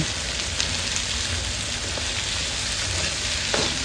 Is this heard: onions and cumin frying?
yes